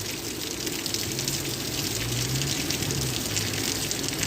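Heavy rain pours in a steady, dense hiss with no break, like a downpour close by.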